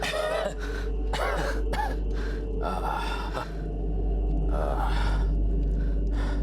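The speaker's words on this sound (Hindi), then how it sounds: "हमें जरा सी खांसी क्या आ गई?" Several short, harsh coughs and throat-clearing sounds come in bursts close by, with brief pauses between them over a low steady hum.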